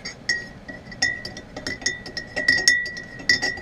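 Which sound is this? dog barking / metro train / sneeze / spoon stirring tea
spoon stirring tea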